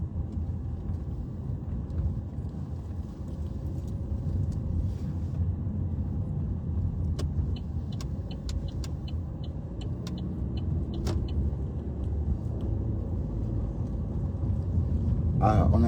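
Steady road noise from a car driving along a route in France, a continuous low rumble and tire hum filling the cabin for about sixteen seconds, with a few faint clicks and no voices.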